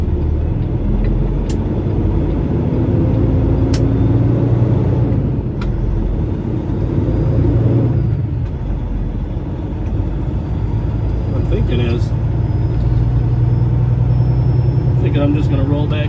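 A leased semi truck pulls away and rolls out onto a truck route, its engine a steady low rumble that fills the whole stretch with a few light rattles and clicks over the top.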